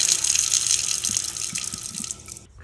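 Hot water runs steadily from a household sink tap, a continuous close hiss of flowing water that cuts off abruptly near the end.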